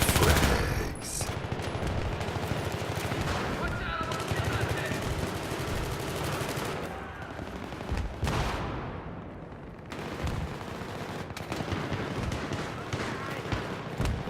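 Dense automatic gunfire in Battlefield 3 rattles in long, loud bursts with scattered single shots and distant booms, continuing almost without pause as a voice talks over it.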